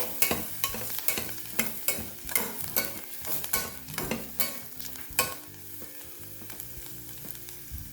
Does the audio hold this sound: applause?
no